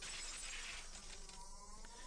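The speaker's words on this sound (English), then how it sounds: "I smashed all the glass windows too" Glass windows get smashed with a hatchet in the Higurashi game, a bright, dense burst of shattering that sprays on as a continuous crash before thinning out near the end.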